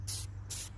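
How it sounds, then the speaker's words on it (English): Spray paint goes onto a model obstacle in two short hissing bursts, close and even, with a brief gap between them. The hobby scenery is being coated in olive green. "Again, I'm spraying a little"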